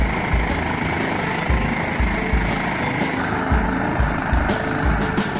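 A helicopter sits at a helipad with a loud, steady engine roar and rotor chop that stays constant and close throughout, no voices.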